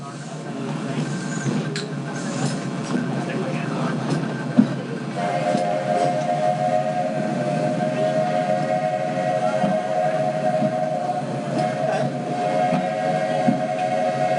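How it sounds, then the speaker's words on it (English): The Walt Disney World Railroad steam train rolls along with a continuous loud rumble and rattle of cars, a sustained whistle-like tone joining midway, while a narrator speaks over it. "There are some who say that this steam train is a little old-fashioned, but for me, it's the only way to travel."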